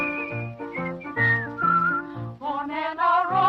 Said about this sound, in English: Maybe they'll whistle and you will hear.